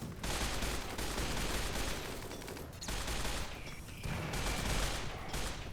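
Sustained, dense gunfire in RimWorld as colonists engage enemy turrets, continuous overlapping shots and bursts with brief lulls, loud and unbroken across the scene.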